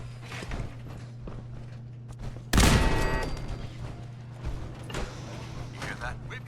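In Fallout 4, a sudden loud burst of turret fire erupts partway through, followed by scattered mechanical clatter and shots, with a steady low hum and people talking throughout.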